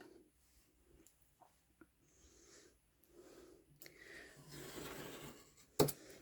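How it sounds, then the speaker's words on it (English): A sharp scalpel cutting through two thick layers of board: quiet scratchy drawing strokes and faint rubbing, growing into a rougher cut near the end with a sharp snap, close and without talk. "it does actually cut through quite readily, because in the end of the day a nice sharp scalpel"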